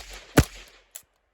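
A single sharp shot from a POF-5, a Pakistani MP5-clone pistol-caliber gun, fired at a range, with a short decaying tail and a fainter second crack just after.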